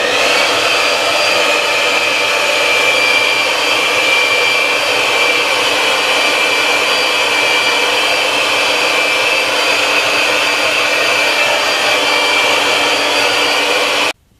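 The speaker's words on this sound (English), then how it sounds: "Then I'm going to hit it with the hairdryer." A hair dryer blows loudly and steadily at close range for the whole stretch, then cuts off abruptly at the end.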